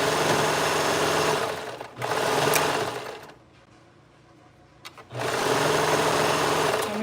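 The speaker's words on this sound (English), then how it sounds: "Time to sew everything together." Sewing machine stitching fabric together, running in two steady loud bursts of a few seconds each, with a quiet pause between them and no talking.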